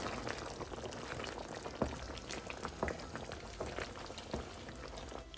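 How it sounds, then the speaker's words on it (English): Hot water poured into a bowl of seasoned beef for Guinness stew, a bubbling, splashing liquid stream with scattered drips and clinks, fairly quiet and close. "here now I'm adding about a cup of hot water, not cold water"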